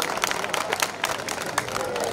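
Audience clapping at a Hindi poetry recital held at a Dussehra fair in Banswara, a dense continuous patter of hands from a crowd.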